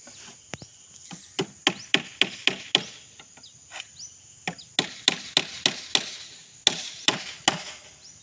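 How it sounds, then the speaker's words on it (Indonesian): Nails are hammered into a wooden starting board in quick bursts of sharp, close blows, about twenty strikes in several rapid runs with short pauses between them. "Kita paku kembali ujung yang satunya."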